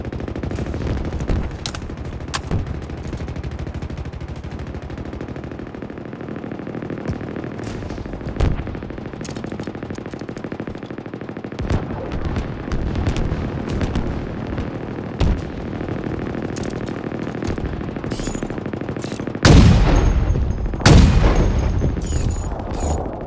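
Long-range weapon fire in the video game Halo Infinite, with repeated loud gunshots and booming blasts over a dense battle din, building to a heavy cluster of shots near the end.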